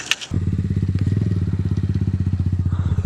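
A dirt bike engine thrums close by, loud rapid pulsing beats after a short clatter at the start, steady and continuous to the end.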